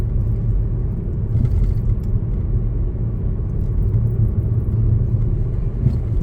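A learner driver's car holds fourth gear at about 30 mph on a residential road near a school, giving a steady, close low engine and road rumble with no speech.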